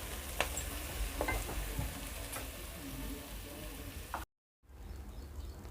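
Green peas fry in oil with a constant close sizzle and occasional spatula scrapes and clicks, then a brief cut to silence before the quieter frying resumes.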